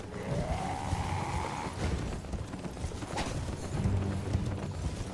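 Steady clip-clop of galloping horse hooves in the video game Elden Ring, fairly close, with a rumbling backdrop and a brief rising whine near the start.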